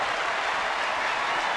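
Crowd applause at a San Diego at San Francisco baseball game as pitcher Madison Bumgarner departs, a steady, dense wash of clapping filling the ballpark throughout, with no talk over it.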